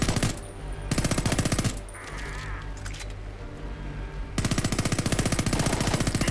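Unsuppressed automatic gunfire in Homefront The Revolution, two loud, close bursts of rapid rattling shots with a brief gap of quieter noise between, then a long sustained burst running to the end.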